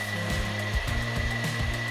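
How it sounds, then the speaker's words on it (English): Metal lathe boring bar cutting the bore of a pintle injector part for a liquid rocket engine: a steady close motor hum with a rhythmic pulsing chatter from the cut, no voices. "As you can see, I'm going into it with the boring bar."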